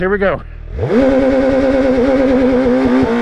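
A Gen 3 Suzuki Hayabusa motorcycle launches at 8,000 RPM with launch control: after a brief blip the engine rises into a loud, steady high-rev roar held close up, with a rider's short remark at the start.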